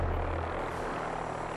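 A helicopter in a video game gives a low, steady rotor and engine drone, fairly faint and unbroken, with no talk over it.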